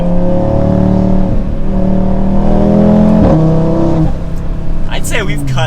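A 2024 Audi RS3 pulls hard from first gear up a steep hill and around a corner, its engine note loud, close and steadily climbing in pitch with brief shift dips, while a person talks over it near the end.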